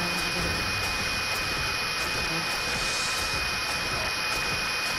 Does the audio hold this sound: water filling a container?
no